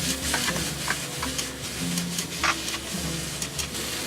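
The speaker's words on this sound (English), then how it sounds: "Give that a nice good stir." Pepper and salt being stirred into a sizzling pan, with a steady close sizzle and scraping, clicking stirs scattered throughout, no talking.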